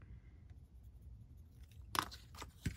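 Scissors cut paper for a Christmas gift list folio, quiet at first, then a short cluster of sharp, close snips near the end.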